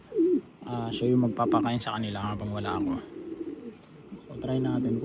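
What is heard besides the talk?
caged bird cooing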